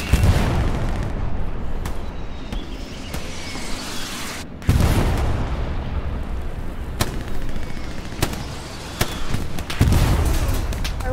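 Explosions and gunfire on a World War II battlefield in Hell Let Loose: repeated heavy booms and sharp cracks at irregular intervals over a constant rumbling din, some close and loud, others more distant, with no talking.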